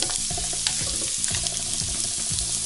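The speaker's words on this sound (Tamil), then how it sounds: "பாருங்கள் இந்த அளவுக்கு வெங்காயம் வந்து நல்லா வதக்கிடணும்." Onion frying until golden brown for a chapati gravy: a close, steady sizzle and bubbling fills the pan throughout, with a few soft knocks and no talk.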